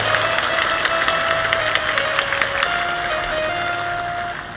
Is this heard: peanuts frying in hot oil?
no